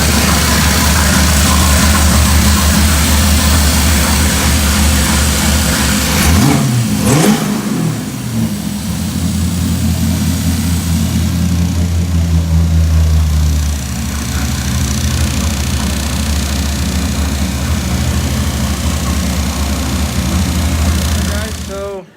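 A 350SX car engine runs with only hose water in its cooling system, rumbling loud and close, then revving up sharply in a quick burst before settling back into a steady idle for the rest of the clip.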